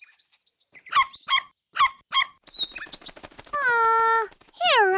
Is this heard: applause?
no